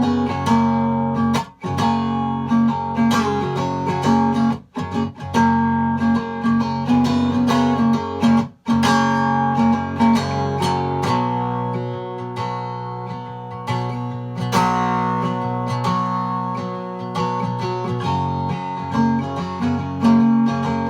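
A cigar box guitar sounds a sustained major third in just-tempered tuning, with strummed chords ringing full and loud, brief gaps between repeated strums, a smooth blended tone and no voices.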